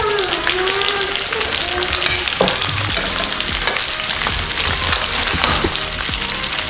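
Fish for Filipino escabeche fries in a generous amount of hot oil, a loud, dense crackling sizzle that runs without pause, with a few clinks and scrapes of the fish being turned.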